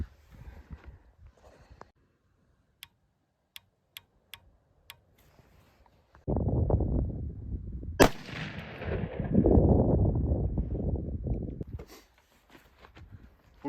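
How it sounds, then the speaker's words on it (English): A single loud rifle shot from an AR-10 fitted with a Zeiss Conquest 4-16 scope, fired at a 50-yard target, a sharp crack with a long rumbling echo after a few faint ticking clicks. "and then we'll shoot one more time at 50."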